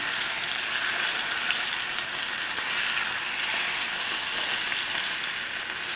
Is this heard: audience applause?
no